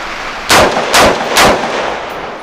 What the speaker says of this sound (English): we are shooting M80 ball military surplus ammunition